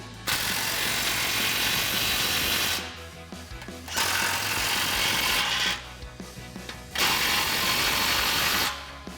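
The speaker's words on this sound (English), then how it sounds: "I'll take my 15mm socket and tighten that clamp down" A ratchet with a 15mm socket tightens exhaust clamps on a 2024-2026 Mustang GT Corsa cat-back system, giving three rapid bursts of close, loud clicking separated by short pauses.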